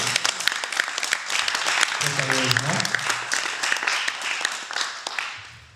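An audience at an association event in Toulouse applauds a visiting delegation with dense, sustained clapping that runs throughout, a voice briefly cutting in over it midway before the applause tapers off at the end.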